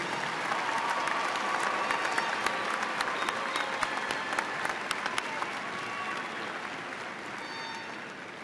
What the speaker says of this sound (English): Let's give a round of applause to the candidates from the College of Engineering.